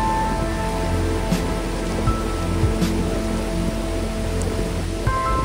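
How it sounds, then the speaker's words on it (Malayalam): The Baspa river runs swift and strong near the Himalayan village of Chitkul, swollen after rain upstream. Its dense, steady rushing roar fills the scene, loud and close, with faint scattered splashes. "വളരെ ശക്തമായ ഒഴുക്കാണ് ബാസ്പ നദിയിലുള്ളത്."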